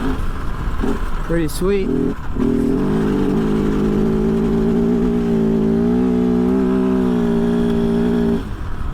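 A 2023 Kove FSE 450R Rally motorcycle engine pulls in second gear with a steady, droning hum that rises slightly in pitch. A rider briefly speaks over it at the start.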